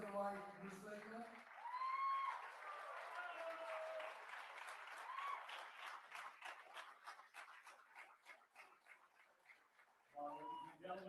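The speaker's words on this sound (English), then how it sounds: "Ladies and gentlemen, a grand round of applause." An audience at an Indian Independence Day event applauds, a sustained wash of clapping that builds and thins out over several seconds, with a person talking over the start and end.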